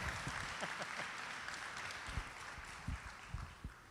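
Audience applause at a talk: scattered, fairly faint clapping from a crowd, patchy and irregular, with a few louder claps near the end.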